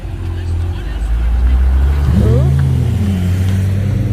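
An Acura drives past at a car meet in Griffith Park. Its steady engine rumble swells as it passes midway, over a constant low drone and background crowd chatter.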